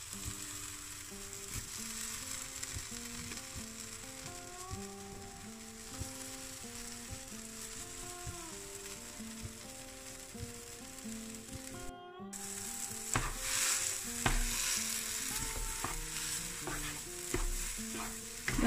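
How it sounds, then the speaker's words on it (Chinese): Mashed red bean paste stir-fried in a non-stick pan over low heat, a steady soft sizzle under repeated scraping strokes of a spatula, close and continuous with no talking. "把捣碎的红豆沙放到不粘锅里炒一炒"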